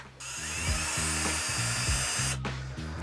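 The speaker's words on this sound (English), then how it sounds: "So we're gonna start by drilling a little pilot hole just to kind of get things started." A power drill bores a small pilot hole while building a DIY kalkwasser stirrer reactor, a steady close whining buzz with a slightly pulsing low rumble for about two seconds before stopping.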